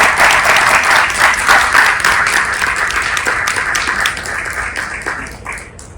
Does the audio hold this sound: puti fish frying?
no